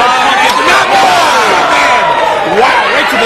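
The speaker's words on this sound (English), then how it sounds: "Wow, right to the throat and a chop." Wrestling crowd at an EXW Xtreme Measures show roaring loudly around a chop to the throat in the ring, with swelling cheers and shouts throughout.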